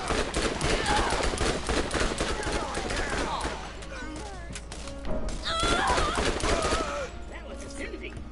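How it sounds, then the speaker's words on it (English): Loud bursts of automatic gunfire in the shooter Borderlands, rapid clusters of shots with a brief lull in the middle before firing resumes, with some talk mixed in. "I am just doing burst fire from here on out."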